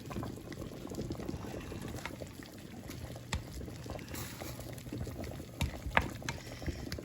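Water rolls at a low boil in a pot of eggs on a home stove, a soft continuous bubbling rumble punctuated by a few faint clinks and taps.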